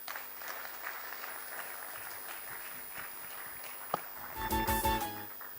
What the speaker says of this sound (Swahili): Another round of applause to our chief guests.